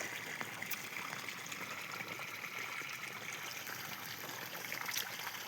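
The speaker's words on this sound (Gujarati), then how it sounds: "પાણી હાલે ધબધબાટી બોલે" Water pumped by two motors runs through an irrigation channel in a chickpea field, a soft, continuous burbling trickle and gush heard faintly and evenly throughout.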